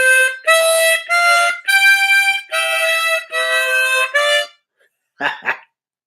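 A harmonica phrase of about seven blown and drawn notes, each held briefly with short gaps, close and clear, ending in a quick wavering fragment after a pause.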